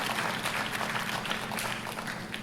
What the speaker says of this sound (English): please give a round of applause for East Brunswick Education Foundation